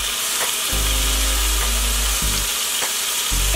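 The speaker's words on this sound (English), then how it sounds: "careful when you do this as it's gonna sizzle even more." Steady, loud sizzling of tofu frying in a hot pan with tamari, occasional sharp pops and crackles throughout, no voices.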